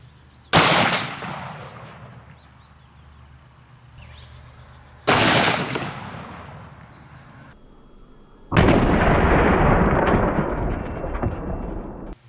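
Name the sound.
Smith & Wesson 500 Magnum gunshot into ballistics gel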